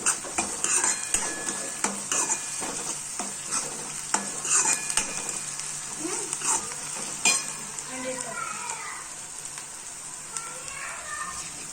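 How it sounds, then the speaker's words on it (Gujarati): Green onions and dried onions fry in a pan for a Gujarati tuver totha dish, sizzling steadily while a utensil stirs and scrapes with clinking strokes throughout. "સરસ આપણે ડુંગળી એ બધી લીલી અને સૂકી થોડી થવા દઈએ."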